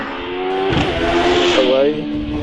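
A race car launches hard off the start line at the Prescott hill climb in Britain, its engine note loud and close and rising as it pulls away, with a commentator talking over the sound.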